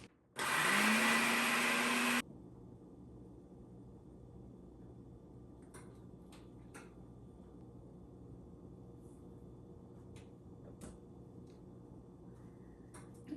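Home blender grinding oats into oat flour, a loud steady whir for about two seconds that stops abruptly, followed by quiet room tone with a few faint clicks and knocks.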